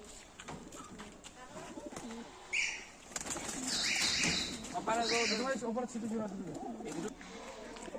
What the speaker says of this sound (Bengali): এই এক জোড়া পায়রা তোমাদের শখ করাচ্ছি।